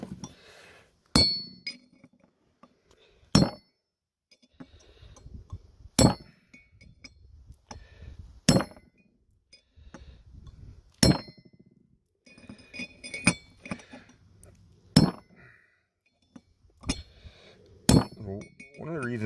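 A hammer striking a chisel to drive out wheel bearing races on a Ford F-150 4x4 hub, sharp metallic clinks every couple of seconds with quieter tapping between.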